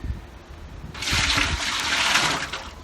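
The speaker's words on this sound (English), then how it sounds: "That bucket of water we saved, straight in" A bucket of saved water is poured into a homebrewing vessel, a steady splashing gush starting a second in and running to the end.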